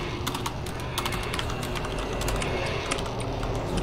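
Fast typing on a computer keyboard during a BedWars gaming session, heard as a dense run of quick, close key clicks over a steady low background hum.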